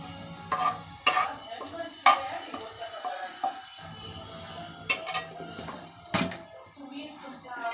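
Bay leaves dropped into hot oil in a pan for a rustic village-style mutton curry, with a spoon clattering and scraping against the metal in several sharp knocks over a low, steady sizzle.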